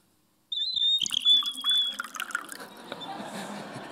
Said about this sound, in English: So there's a little hole right under the bird here, and it creates a little vacuum and whistles.